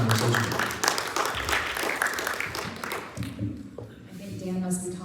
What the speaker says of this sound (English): Big round of applause for Carissa